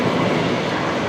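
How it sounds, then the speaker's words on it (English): Qatar Airways Boeing 777 at Brisbane Airport at night, a loud, steady broadband engine roar filling the whole moment without break. "There is the Qatari 777."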